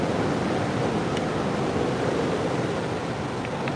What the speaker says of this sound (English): The beautiful sea right now